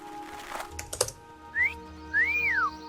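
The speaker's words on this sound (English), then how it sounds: "Do you think I can whistle?" A person whistles two short pitch-sliding notes, a brief rising chirp then a longer arching tone, after some faint keyboard-like clicks in a quiet room, with no talking.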